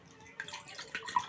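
Tap water runs and drips into a sink after a meal, a soft, close trickle with small splashes rising and falling over about a second.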